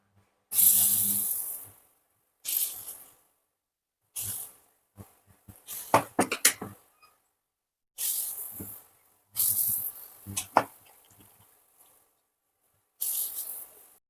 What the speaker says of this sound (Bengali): এরপর এগুলোকে আমি বড়ার আকারে ভেজে নেব